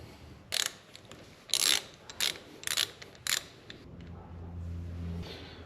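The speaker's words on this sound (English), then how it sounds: "First up, we're going to take off the speed sensor here, or ABS sensor. You'll need a 10mm socket for that." Ratchet wrench with a 10mm socket loosening the ABS speed sensor bolt on a BMW F650GS Dakar motorcycle fork, several short crisp clicking bursts close by, followed by a faint low hum.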